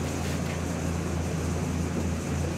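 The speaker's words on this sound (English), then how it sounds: "I'm running my fans, so you got a little fan noise in the video" Electric fans whir steadily in a hot garage where a 1969 Dodge Super Bee is being worked on, a constant broadband hum with a low drone, close and even throughout.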